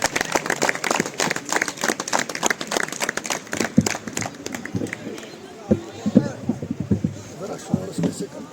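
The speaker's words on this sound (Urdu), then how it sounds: "ایک طالبہ، ایک سکالر گولڈ میڈلسٹ مہنازہ اختر، آپ کی تالیوں کی گونج میں جب تک وہ یہاں پہنچے آپ کی تالیاں بجتی رہیں۔" Audience applause at an alumni gathering, sharp, lively clapping from a crowd that is loud at first and thins into scattered claps, with speech heard in the background.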